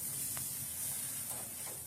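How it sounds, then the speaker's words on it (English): A faint, steady hiss of tri-tip sizzling over high heat on an offset smoker, soft and continuous with no voices. "You'll hear it sizzle."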